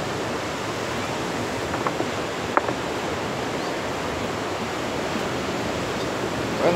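Ocean waves at Puerto de la Libertad, El Salvador, a steady broadband wash of surf with a few faint clicks and knocks and no talk.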